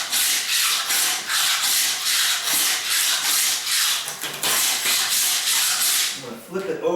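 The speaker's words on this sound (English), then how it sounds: "Gotta figure out, find your angle of where it's gonna scrape off the most." A long handle razor scraper scraping a surface in repeated strokes, loud close rasping pushes in a steady rhythm of about two per second, with no talk over it.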